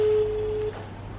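A telephone call rings out unanswered, a single steady electronic tone heard close and clear that cuts off after under a second, leaving low background hum.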